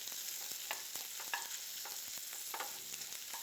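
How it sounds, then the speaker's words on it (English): Green beans tossed in butter in a pan, gently caramelizing over lowered heat: a soft, quiet sizzle with light scraping and stirring clicks throughout. "I want to make sure I toss them all in that butter and then turn it down a little bit, just so they can gently caramelize."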